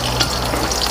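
Shrimp paste (terasi) being sautéed in a pan as part of making sambal matah gives off a steady, close sizzle and frying crackle with light stirring, continuous through the short moment, with no voices.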